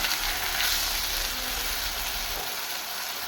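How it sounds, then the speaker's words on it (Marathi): In a pan, white gravy with roasted whole spices fries with a steady, dense sizzle, loud and close throughout with no talking. "ही जी व्हाईट ग्रेव्ही आपण बनवलेली होती सगळ्या ह्याची ती आपण भाजून घ्यायची"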